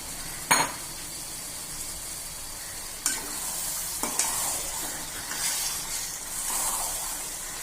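About three-quarters of a kilo of chicken pieces sizzle steadily in a pan for biryani, with a few sharp scrapes and clanks as a spoon stirs them, and no talking.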